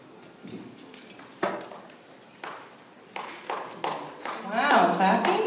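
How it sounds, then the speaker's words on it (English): A small audience at an outdoor education meeting claps in scattered, uneven bursts, a few hands at a time, growing fuller toward the end, with faint room noise between. "Wow, clapping?"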